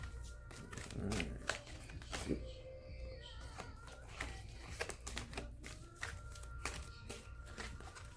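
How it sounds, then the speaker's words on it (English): Tarot cards being shuffled by hand during a reading, soft rapid riffling and tapping bursts close by, quiet, with occasional low background voices. "I like to shuffle until a card comes out"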